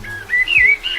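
Birds chirp in a cartoon forest, a short run of bright, rising and falling whistled notes, clear and fairly close, with no talking.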